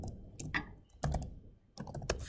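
Typing on a computer keyboard while working in a Jupyter notebook: close, crisp key clicks in short irregular bursts separated by brief pauses.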